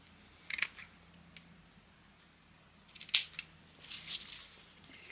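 Scissors snipping the ends of Kamihimo craft paper cord at an angle, a few quiet, crisp cuts close by with soft rustling in between, in an otherwise hushed room.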